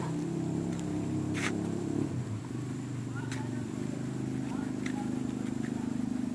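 An Isuzu Giga truck engine labors at a low, uneven drone while stalling on an uphill climb, heard from a distance under a voice, with a few sharp clicks over it.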